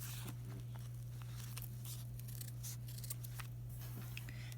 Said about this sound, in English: And I'm going to trim off this little feet here.